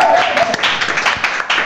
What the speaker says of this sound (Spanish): Hay que aplaudir, ¿no?